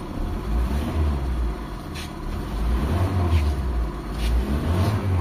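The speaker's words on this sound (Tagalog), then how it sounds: "So i-rev natin mga boss." Mitsubishi Lancer engine being revved in a workshop during wiring repair, a low idle rumble that swells into two throaty revs, moderately close, with a faint voice in the background.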